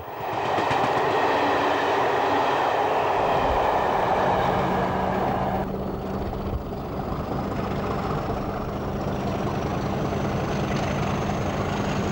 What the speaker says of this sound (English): 50032 heads a northbound passenger service on the 26th of April 1986